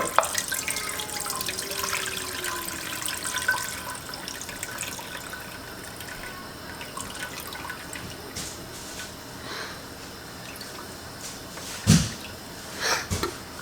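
Liquid from a jar of home-canned beef stew pours steadily into a pot, a soft continuous trickle with faint splashes and a brief louder slosh near the end, with no talking.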